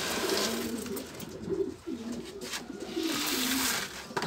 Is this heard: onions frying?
no